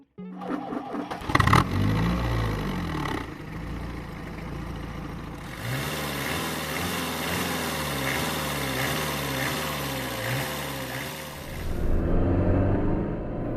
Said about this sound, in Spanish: Un enorme motor diésel de 2500 centímetros cúbicos y 72 caballos, rabioso y con un temperamento a la antigua usanza